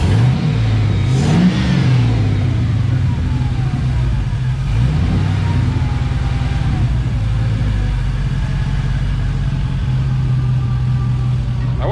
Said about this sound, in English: When I throttle it up,